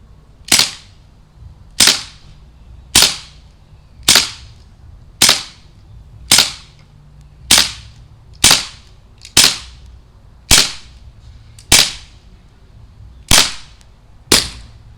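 A Daisy Powerline 426 CO2 BB pistol fires thirteen sharp, loud cracks at an even pace of about one per second, each snap decaying quickly, with quiet between shots and no talking.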